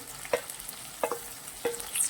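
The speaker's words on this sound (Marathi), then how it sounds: "आता कट केलेली हिरवी मिरची घालायची आहे आपल्याला" Chopped green chillies fry in a pan of tempering with tomato for a shepu dal, giving a steady close sizzle with three brief scrape-and-stir bursts spaced across the stretch, no talk.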